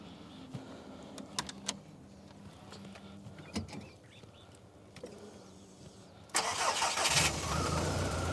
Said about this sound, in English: can you please start it up for us, Lavashan?